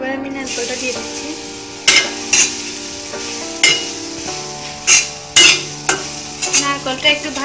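Grated coconut frying in ghee in a pan for a chhana-coconut patishapta filling, with steady sizzle broken by repeated sharp spatula scrapes and clanks at irregular intervals, close and fairly loud.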